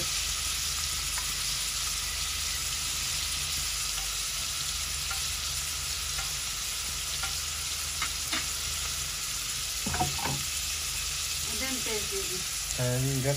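Chopped onion and green chili fry in a hot pan with a steady, close sizzle lasting throughout, small stirring clicks toward the end and a brief voice heard faintly near the finish.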